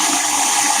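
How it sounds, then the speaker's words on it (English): Water pours steadily into a cooking pot, a loud, close, continuous rushing splash with no break. "Right now, I'm just pouring the water in the pot."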